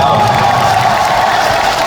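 Concert audience applauding and cheering for a singer, a dense, loud, continuous wash of clapping and crowd noise with no gaps, filling the hall for the whole stretch.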